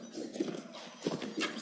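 A horse clip-clops and gallops across a battlefield in the video game Mount & Blade, its hoof beats faint and uneven among other game noise, with no talking.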